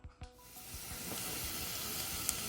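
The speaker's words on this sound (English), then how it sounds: "Here's my onions sauteing. We're going to let them brown a little bit." Onions sautéing in a pan as a meat sauce for orecchiette begins, a steady soft sizzle and hiss that swells after a couple of quiet clicks at the start, faint and continuous with no talking.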